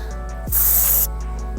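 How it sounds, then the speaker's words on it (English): A single short burst of plastic restorer from a trigger spray bottle, a sharp hiss lasting about half a second over a faint background hum. "So let's spray some of this on here"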